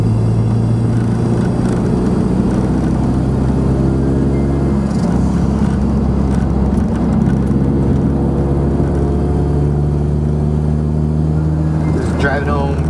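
Steady in-cabin drone of a turbocharged 2007 Honda Civic Si sedan cruising, a low engine hum and road rumble held at an even level throughout, with a brief rising whine near the end.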